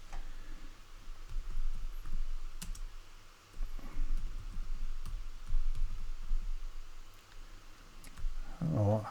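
Computer keyboard buttons pressed in scattered soft clicks and taps at close range over a steady hum, irregular and fairly faint, with no talking.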